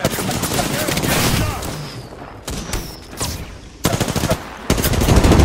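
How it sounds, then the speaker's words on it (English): Rapid bursts of automatic gunfire in an Apex Legends battle, loud and close, broken by short pauses and resuming in dense volleys, with a few sharp impacts and faint voices underneath. "Getting shot at."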